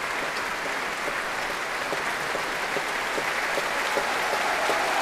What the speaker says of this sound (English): Special applause now for the four soloists.